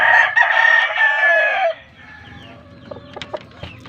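A young Kanawayon rooster, about nine months old, crows loudly and close in a backyard, the call ending abruptly, followed by softer clucks and scattered pecking and rustling from the flock.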